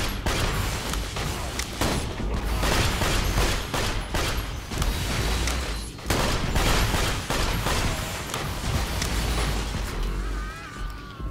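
The player's gun in Borderlands 2, wielded by a level 50 Zero, fires loud, close, rapid bursts of gunfire that repeat in dense volleys with short gaps, heavy booming hits mixed in.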